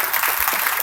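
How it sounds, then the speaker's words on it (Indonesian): Audience at the opening of a teacher-training workshop in Bandung claps in a brief, dense burst, a bright continuous rattle of many hands heard close and fairly loud for under a second. "Tepuk tangan untuk Ibu Bapak saya."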